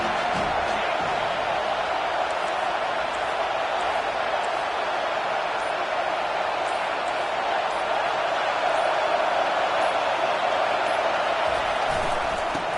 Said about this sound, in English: Crowd trying to show them what it's going to be like all day in this house.